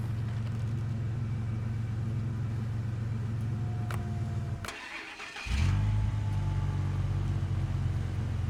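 The engine of a logging truck in SnowRunner rumbles steadily, then cuts out briefly with a click before a deeper, louder idle resumes, a continuous mid-low drone with no talking.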